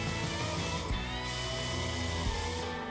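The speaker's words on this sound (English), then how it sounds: "Now hit the quarter panel with 80 grit on a DA." A DA sander with 80 grit sandpaper runs over a Trans Am quarter panel, a loud continuous whirring buzz with brief dips in pitch as pressure shifts, and no talking.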